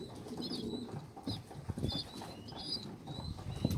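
A runaway homing pigeon coos in soft repeated bursts, close by, with scattered rustling and small thumps of movement in between and no talking.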